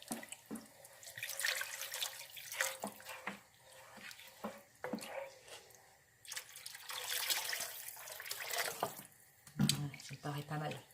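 Roughly a litre of water pours and splashes into a pot of chicken and peanut stew (mafé), a steady, fairly close gush that swells and eases over about eleven seconds.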